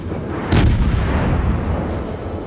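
A warship fires a broadside in the World of Warships video game: one heavy, sharp boom of naval guns followed by a rumbling, sustained decay.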